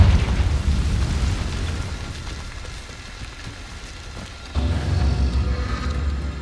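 A Confringo fire spell exploding in Hogwarts Legacy, a booming fiery blast that fades into a low crackling rumble, then a second loud burst about two-thirds of the way through.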